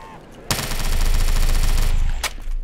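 Sustained automatic gunfire from a weapon in Black Ops 3, a loud rapid burst lasting about a second and a half, then a short second burst, dominating the game audio.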